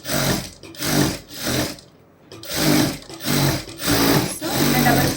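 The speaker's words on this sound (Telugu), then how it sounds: "దీని మీదనే సేమ్ డబల్ స్టిచ్ వేసుకోవాలి" A sewing machine runs a double stitch over a neck patti in short repeated bursts with a brief pause midway, close and loud, its rhythmic mechanical hum rising and falling.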